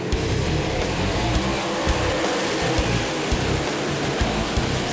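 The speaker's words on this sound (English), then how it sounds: "Here come the Casey's General Stores USMTS Modifieds to the green." USMTS modified race cars at Central Speedway, a dirt track, roaring past in a thick, continuous wash of engine noise with a dense rumble underneath, loud and broad.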